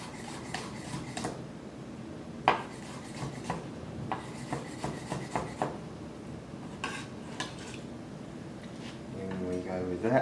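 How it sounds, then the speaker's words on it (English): A knife roughly chopping pitted dates and garlic on a board in a home kitchen, irregular quick knocks and scrapes scattered under steady talking, with a louder clack midway. "I think I'll just give those a little bit of a rough chop as well. Same with the garlic."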